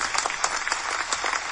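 Studio audience clapping on a talk show, a brief burst of scattered applause with distinct individual claps, moderately loud and without speech over it.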